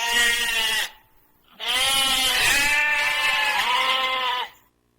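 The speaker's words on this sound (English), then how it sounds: "it's the sound of a sheep" Two loud, close sheep bleats, the first short and the second long and wavering, separated by a brief silence, with no talking over them.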